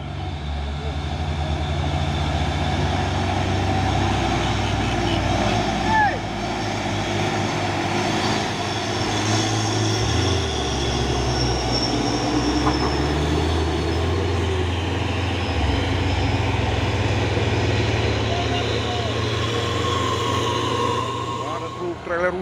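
A Hercules truck trailer passes on the road, a loud sustained low engine drone that shifts in pitch as it goes by, with people talking over it.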